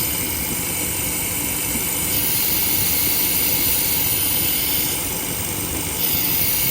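A 2016 GM 1.6-liter turbo engine idles with a vacuum leak, giving a steady, loud broadband hiss over a low engine rumble, continuous throughout with a slight swell in the middle.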